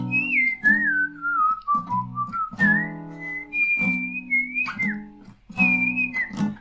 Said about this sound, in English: I wanted some blues in there, so I did it with whistling.